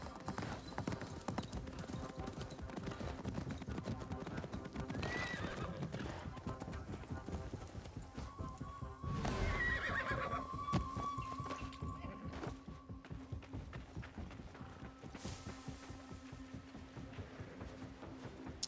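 A horse in an Assassin's Creed game gallops with steady, dense hoofbeats throughout, and a whinny rises midway, while voices talk faintly over the game's ambient sound.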